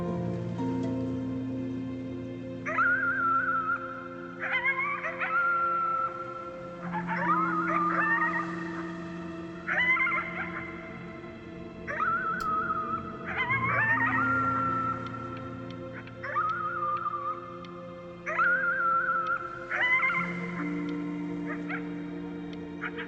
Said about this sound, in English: You howled at the moon, at the top of your lungs.